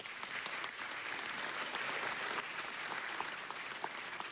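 Dense, even applause from an audience at a city council meeting, a continuous wash of many clapping hands at a steady level throughout.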